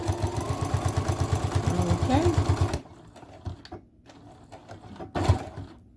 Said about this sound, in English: You can sew right over these all-purpose zippers. You can sew, look, I'm sewing right over them.